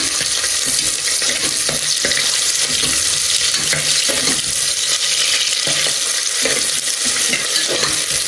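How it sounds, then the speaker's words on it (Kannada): Sliced onions sizzle and fry steadily in a hot pan for mushroom white pulao, a loud continuous crackle with occasional stirring scrapes and no talking. "ಅದೆಲ್ಲ ನೀಟಾಗಿ ಸ್ವಲ್ಪ ಫ್ರೈ ಆದಮೇಲೆ ಈರುಳ್ಳಿ ಹಾಕೊಳ್ಳೋಣ."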